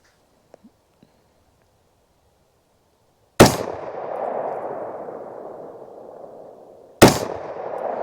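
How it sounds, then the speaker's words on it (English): A Ruger AR-556 MPR rifle fires two sharp, loud shots several seconds apart at an outdoor range, each crack followed by a long rolling echo fading away, after a few faint clicks in near silence. "let me take a few more shots and I'll use the 300 hash mark"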